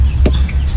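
Chickens cluck in a short burst near a backyard chicken coop and free-range area, two or three quick calls over a steady low background hum.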